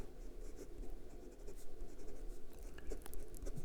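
A restored 1948 Parker 51 Vacumatic fountain pen with a fine nib scratches steadily across paper, a close, continuous dry scraping with small strokes and ticks.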